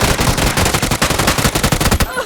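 Rapid, loud bursts of machine gun fire in PlayerUnknown's Battlegrounds, continuous rattling shots that stop abruptly at the end.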